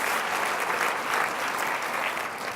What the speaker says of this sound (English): That's where I thought you all might applaud.